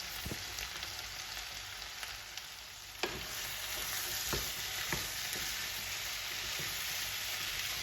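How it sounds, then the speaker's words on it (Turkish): Steady frying sizzle in a pot as chopped potatoes are stirred into sautéed onions and tomatoes, with occasional sharp clacks and scrapes of a spoon, close and continuous throughout. "Doğradığımız patatesleri tencereye ekleyerek güzelce karıştıralım."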